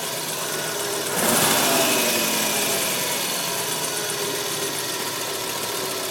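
A 2.3-litre Audi 100 Typ 44 engine idles steadily after a brief rev near the start, then settles into an even, close mechanical hum with a faint ticking under it.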